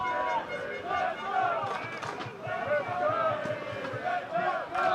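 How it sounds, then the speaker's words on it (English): New Zealand supporters chant rhythmically from the stands at a canoe polo world championship match, a dense crowd roar with repeated pulsing calls throughout. "And you can hear the Kiwi chants coming out of the crowd"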